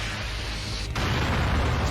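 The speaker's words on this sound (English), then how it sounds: "An explosion." A loud, sustained roar of an explosion blast fills the whole moment in the fighting game Naruto GNT4, with a brief dip before the rumble swells again.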